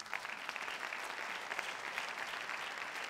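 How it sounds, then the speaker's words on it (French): An audience at a company awards event applauds in one continuous, dense wash of clapping that holds steady without breaks. "Vous applaudissez s'il vous plaît cette entreprise"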